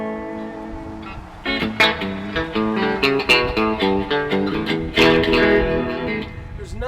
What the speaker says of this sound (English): there's nothing like the reverb on an old amp